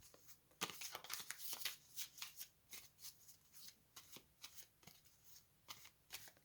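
Tea leaf fortune cards and tarot cards are shuffled by hand in quick, crisp riffles and soft slaps, a close, quiet series of papery bursts with brief pauses between.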